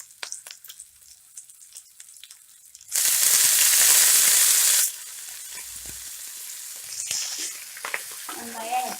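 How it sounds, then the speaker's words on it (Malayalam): Shallots, green chilies and drumstick leaves fry in a pan for a drumstick leaves dish, a loud burst of sizzling as they hit the hot oil, then softer crackling and stirring noises that continue near the microphone. "അതിലേക്ക് നമ്മൾ എടുത്ത് വെച്ചിരിക്കുന്ന ചെറുള്ളിയും പച്ചമുളക് ഇട്ട് കൊടുക്കാം. ഇതിലേക്ക് തന്നെ നമ്മൾ എടുത്ത് വെച്ചിരിക്കുന്ന മുരിങ്ങയുടെ ഇലയും ഇട്ട് കൊടുക്കാം."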